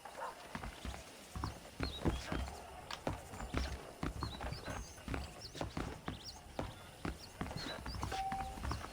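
Horse hooves clip-clop in a steady walking rhythm in the Red Dead Redemption video game, a saddled horse plodding along at moderate distance, with faint whinny-like sounds among the footfalls and no talk over it.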